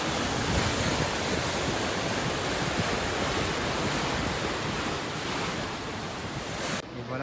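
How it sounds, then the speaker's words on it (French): Powerful ocean waves crash and churn along the coast at Rabat, Morocco, a loud, continuous roar of surf mixed with wind buffeting the microphone, with no voices heard. "Les vagues sont très fortes."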